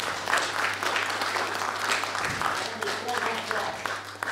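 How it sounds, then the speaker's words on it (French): An audience at a political club conference applauds a speaking couple, with steady clapping from many hands over a low electrical hum. "ce couple, c'est Émilie et François Dubois, qu'on peut applaudir"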